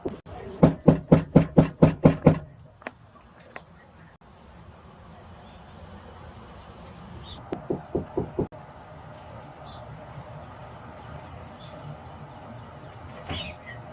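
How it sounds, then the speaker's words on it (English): Knocking on a house door during a police visit to a suspect's home: a fast burst of about seven loud raps, then a quieter series of four knocks a few seconds later, with faint background noise between. "I'd knock louder."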